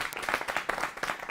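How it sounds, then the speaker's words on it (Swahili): An audience at a live Kenyan evening talk show applauds, a steady dense patter of many hands clapping at moderate level with no voices over it. "Makofi."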